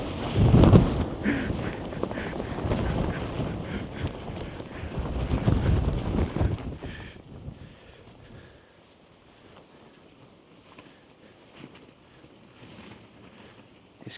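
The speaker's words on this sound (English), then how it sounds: "his tent's blowing like a hoolie" Strong wind buffets tents at a spring campsite, roaring in loud gusts against the microphone for several seconds before easing into a quieter, steady rush.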